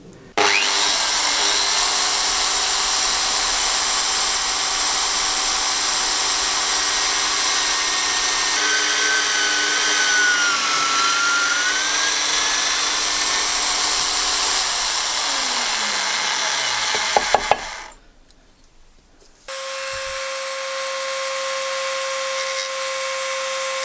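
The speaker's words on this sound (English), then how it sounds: "Next I'll drill the hole here and go over this area with a diamond bit, making kind of a pattern on the handle." A power drill bores a hole through a leaf spring steel kiridashi knife handle, giving a loud, steady whine that shifts pitch midway and stops briefly before running again.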